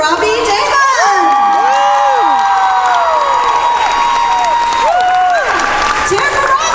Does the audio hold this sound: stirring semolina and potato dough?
no